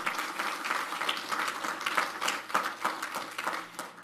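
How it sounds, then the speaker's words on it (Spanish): A church congregation applauds during a sermon, a moderately quiet, continuous patter of many hands clapping with irregular swells and no speech on top. "Vamos a darle un aplauso al Rey."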